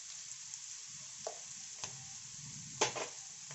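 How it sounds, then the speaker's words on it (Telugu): Garlic frying in oil in a pan for guava chutney, a constant bright sizzle with soft low crackle and a few sharp ticks of stirring, close and moderately loud, no voices. "వెల్లుల్లి వేసుకుందాం"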